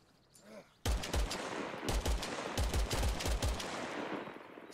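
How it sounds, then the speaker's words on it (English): Bursts of WWII-era gunfire in Arma Reforger, several rapid volleys of loud, sharp shots in quick succession after a brief quiet start, echoing at mid distance. "Someone shooting from over there."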